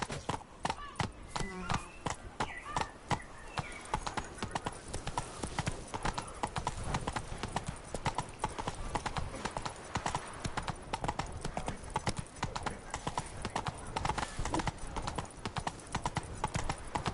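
Roach the horse trots steadily on clip-clopping hooves in The Witcher 3: Blood and Wine, a continuous rhythmic beat of hoofbeats close by, with no talk.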